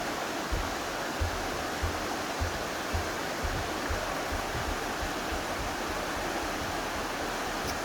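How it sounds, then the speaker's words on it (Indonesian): River water flowing at Kampung Naga, a steady broadband rush with low churning pulses, close and continuous throughout, with no voices over it. "Ini sungai apa? Cimanuk ya?"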